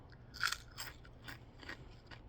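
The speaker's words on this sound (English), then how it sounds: "Very nice crunch on those chips, by the way." Crisp bites and crunches into serrano-flavoured potato chips, a handful of sharp crackly snaps close to the mic in quick succession over a quiet background, with no talking.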